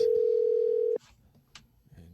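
A telephone dial tone hums steadily for about a second while a call is placed, then cuts off into quiet room noise.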